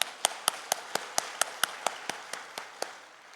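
Church congregation in a Sunday morning service giving applause, heard as a steady, evenly spaced series of about a dozen sharp claps in a reverberant hall, fading slightly toward the end.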